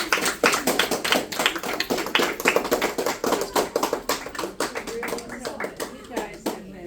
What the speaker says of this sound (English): let's give your parents and your teacher a round of applause